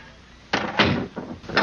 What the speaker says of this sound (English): Please close the door behind us.